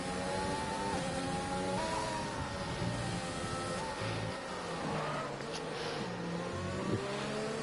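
Two Formula 1 race cars in a racing game at the Zandvoort circuit brake heavily, their high engine whine stepping down through the gears, loud and close over a steady hum.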